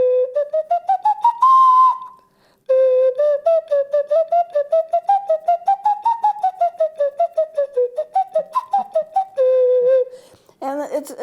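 A small school wind instrument resembling a recorder plays a lively tune of quick, tongued notes, with one held note and a short pause, bright and breathy, close up and alone.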